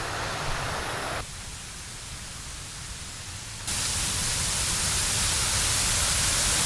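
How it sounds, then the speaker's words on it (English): Small waterfalls splitting down either side of a rock on a Lake District beck, a steady broadband rush of falling water that drops quieter for a couple of seconds then swells louder and closer, with no talk. "Ooh, some nice looking little waterfalls here."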